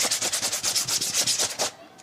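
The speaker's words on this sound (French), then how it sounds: "J'ai le savon, j'ai ma brosse comme toujours et je vais nettoyer la veste." A brush scrubs soap into the lapel of a Super 100 wool jacket in quick, regular back-and-forth strokes, about a dozen close rasping rubs before it stops.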